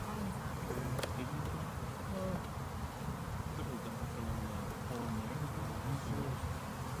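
A dense, steady buzzing of many honeybees during a nucleus hive transfer fills the air, close and continuous, with a faint click partway through.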